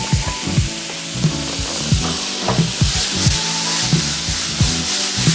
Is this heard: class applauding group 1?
no